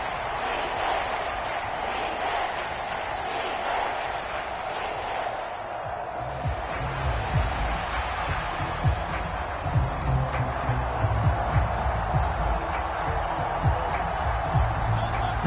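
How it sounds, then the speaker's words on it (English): A large stadium crowd roars steadily throughout in the video game Madden 24, the din swelling louder in the second half, with a voice faintly audible beneath the noise. "That just means this crowd's going to get even louder"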